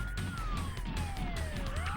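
A police car siren from the video game The Misadventures of Tron Bonne, a loud wailing tone that sweeps slowly downward, heard close over a busy, rumbling game soundscape.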